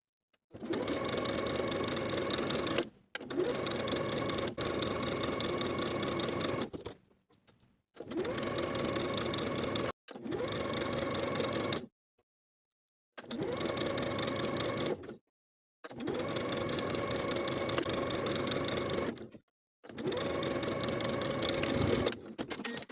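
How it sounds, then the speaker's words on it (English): A sewing machine edge stitching along the pressed top edges of a shirred dress runs in several steady bursts of rapid, even stitching, with short silent pauses between runs. "we're going to edge stitch right along our finishing stitches all the way around"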